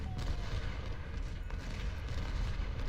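Artillery and musket fire roll through a Civil War battle in the video game Ultimate General: Civil War, a dense, continuous low rumble of booms and volleys with scattered sharper cracks throughout.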